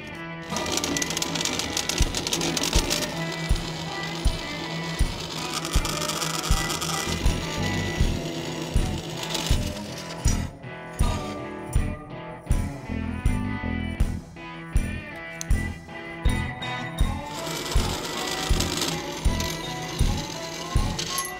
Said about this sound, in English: we went ahead and drilled a couple of holes so that we can mount it to the frame